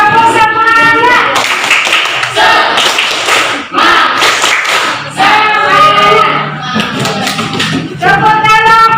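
A group claps together in quick rhythmic patterns in a school classroom in Indonesia, with children's voices chanting and calling along throughout, loud and close.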